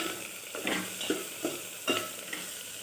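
Food frying in a pan is stirred with steady scraping strokes, about four distinct swipes over a continuous close sizzle, with no voices.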